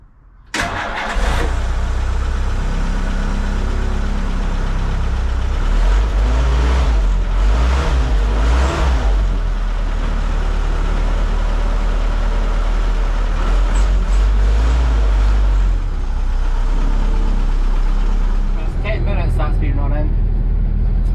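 A Jeep engine cranks and catches after about a second, then settles into a loud, close, steady idle on quarter choke, its rumble filling the rest of the stretch with slight fluctuations.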